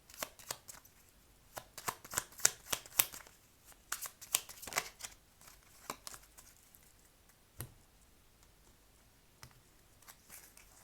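Lenormand cards being shuffled by hand, a run of crisp riffling and slapping bursts that come in close clusters, then sparser single flicks toward the end, fairly quiet with no talking.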